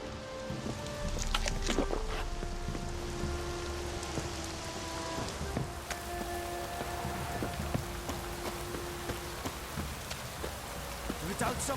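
Steady rain falling in The Witcher 3, a soft continuous patter with scattered drops and splashes, moderately close, with faint clanks and bursts of game sound now and then.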